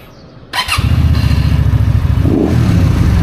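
A Benda Greystone BD250 motorcycle engine starts with a sharp crank and catch, then settles into a loud, close, throbbing idle that swells as the throttle is blipped.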